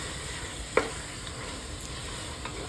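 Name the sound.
tomatoes with salt being sautéed and stirred in a pan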